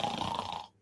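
A person snores once, a short rasping nasal breath that is close and fairly loud, then trails off into silence.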